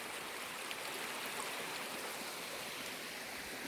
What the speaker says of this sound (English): just flowing directly off the mountain